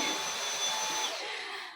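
A vacuum cleaner runs steadily while a new condo is cleaned, a close, continuous high whine and hiss that fades out at the end.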